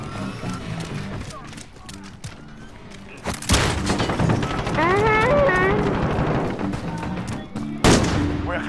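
Call of Duty Modern Warfare gameplay with a slow-firing weapon: sharp, loud gunshot bursts at irregular intervals amid game music and effects, with a voice talking over part of it.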